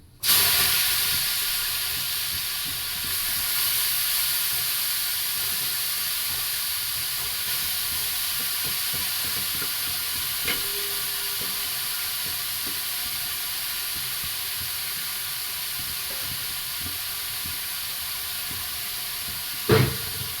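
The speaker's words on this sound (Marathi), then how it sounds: "आणि त्याच तुपामध्ये टाकते आपण किसलेला बीट।" Grated beetroot fries in ghee in a home kitchen, giving a steady, close hiss and sizzle that runs unbroken for about twenty seconds, with a few faint clicks of stirring.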